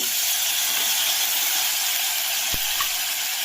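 Cumin, bay leaf and chili tempering in hot oil for a fish curry, a steady loud sizzle and hiss that holds evenly throughout, with a brief knock partway through.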